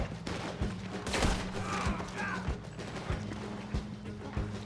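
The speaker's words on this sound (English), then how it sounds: "this semi-auto shotgun has quite a bit of spread at range" Repeated blasts from a semi-auto shotgun in Red Dead Online, several sharp shots spaced about a second apart over a busy game backdrop.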